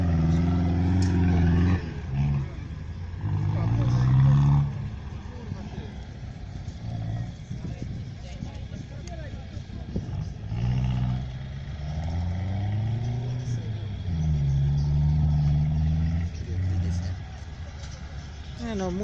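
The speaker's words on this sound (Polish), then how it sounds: "O, jadą Niemcy tym pięknym autem." At a military vehicle rally in Darłowo, a car engine drones and revs as it drives past nearby, rising and falling in several passes while people talk throughout.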